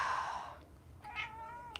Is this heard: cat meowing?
yes